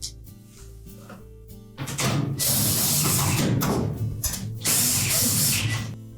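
Countersunk head screws are driven tight into the hinges of a Whirlpool washer during a spring support replacement. It sounds like two loud, close bursts of ratcheting, grinding driver noise, with a brief pause between them.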